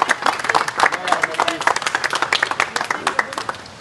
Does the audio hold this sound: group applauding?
yes